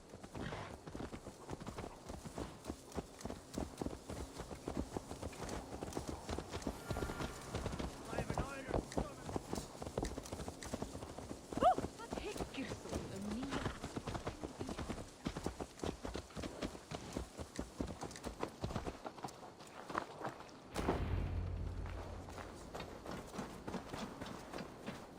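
Horse hooves clip-clopping steadily as a rider travels in Assassin's Creed Valhalla, a continuous run of rhythmic hoof strikes under game music and ambience, with talk over it and a brief drop near the end.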